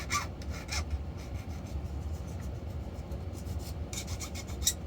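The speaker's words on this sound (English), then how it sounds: "Go ahead and file off." A metal file rasps burrs and sharp edges off a freshly hacksaw-cut miniature exhaust pipe held in a vise, for a 1/6-scale RC Willys Jeep; steady, close scraping strokes repeat continuously throughout.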